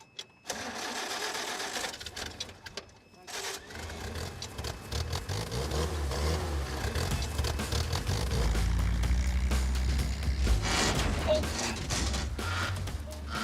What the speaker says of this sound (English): This is running a bit rough, isn't it?